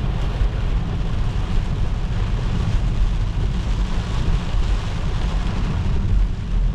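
Heavy rain pouring down at the Taste of Manila outdoor festival in Toronto, a loud, continuous broadband roar of downpour with wind-like rumble and no voices.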